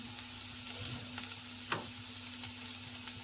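Carrot rice with salt, turmeric, chilli powder and garam masala sizzling softly in a pan, a steady low crackle with faint scraping stirs and one clearer scrape midway, quiet and close.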